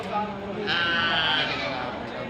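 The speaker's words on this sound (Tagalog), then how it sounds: "Nariho yung mga native na kambing." Native goats on a farm bleat close by, a loud, wavering cry rising over a steady background of other animals and faint voices.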